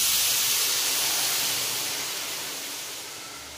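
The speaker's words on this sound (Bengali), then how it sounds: "মাছটা কষিয়ে নিয়েছি, এখন জল দিয়ে দেবো।" Water poured onto hot, oily masala in a pan for a river fish curry, giving a loud, steady hissing rush of steam that slowly fades as it settles.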